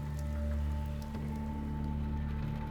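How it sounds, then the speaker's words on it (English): Steady rain pattering over a surface in the Resident Evil 2 Remake video game, a continuous even hiss with a low droning game ambience underneath, no voices. "That rain looks red."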